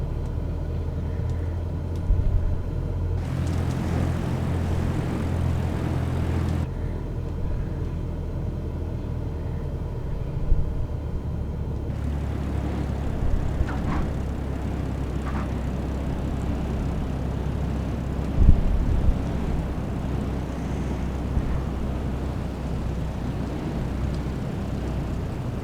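Light aircraft engine in Microsoft Flight Simulator 2020 throttling up on a runway near Lucerne, a continuous loud low drone and rumble that shifts in tone partway through and holds steady with occasional small knocks.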